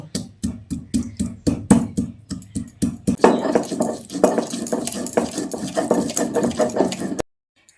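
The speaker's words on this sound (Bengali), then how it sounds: "দেখুন আদা কাঁচা লঙ্কাটাকে আমি মিহি করে বেটে নিয়েছি" Ginger and green chilies are ground into paste by hand, producing steady rhythmic scraping and pounding strokes of stone on stone, close and moderately loud, with no talk.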